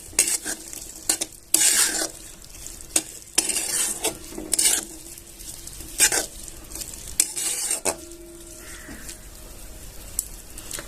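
Eggplant fries in a pan for bharit, making a constant sizzle broken by repeated loud scraping and clanking as a spatula stirs against the metal. No one speaks.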